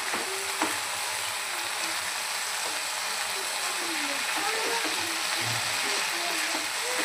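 Bombay duck fish frying in oil for a curry, a continuous close sizzle and crackle with a faint voice talking underneath.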